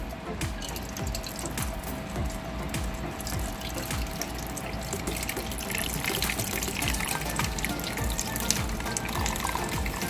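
Grease from browned ground beef drains into a kitchen sink, giving a soft, continuous wet trickle and splash with faint clinks and rattles of the pan and strainer, fairly quiet and with no talk.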